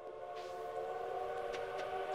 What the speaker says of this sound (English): A train is passing through Stardew Valley.